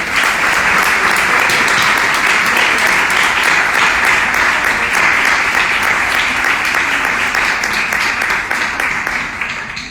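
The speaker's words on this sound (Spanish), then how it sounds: "cerramos entonces con un caluroso aplauso" An audience at a human rights conference lecture gives loud, sustained applause, dense overlapping claps from many hands filling the room at a steady level before trailing off slightly at the end.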